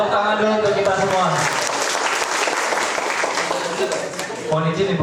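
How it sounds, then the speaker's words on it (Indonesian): Audience applause fills a teachers' seminar at an Angkasa school, dense steady clapping from a large crowd lasting throughout, with some voices mixed in at the start and end. "Oke, tepuk tangan dulu untuk kita semua."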